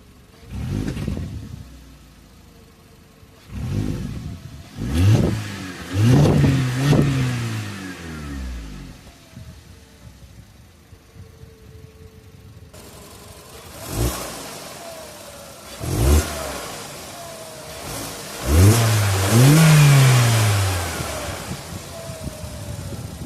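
A 2004 Volkswagen Golf four-cylinder engine revved from inside the car, several rising and falling throttle blips over a steady idle, fairly close and loud with no talking.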